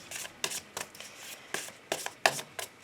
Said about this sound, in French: je vais commencer mon tirage avec le tarot